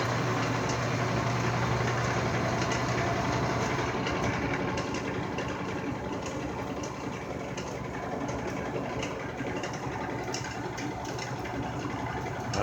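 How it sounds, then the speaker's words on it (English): A wood lathe spins an unbalanced, roughly five-inch-thick red bud bowl blank, giving a continuous loud rumbling drone with a heavy wobbling vibration throughout and no pauses. "Let me show you what happens when I turn the lathe on for this."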